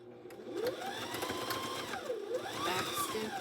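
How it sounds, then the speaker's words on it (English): A sewing machine stitches binding strips together in a continuous whirring run with rising and falling motor pitch, close and fairly quiet. "Bring it to your sewing machine"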